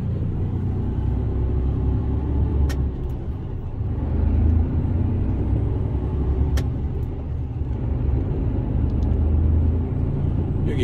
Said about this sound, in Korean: 지금 퇴근 시간이라 승용차들이 막 나오네